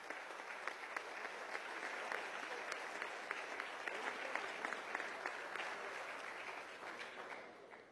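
Applause fills the chamber of Venezuela's National Assembly during a session, a steady wash of many hands clapping that holds for several seconds before thinning at the end, heard at a moderate distance.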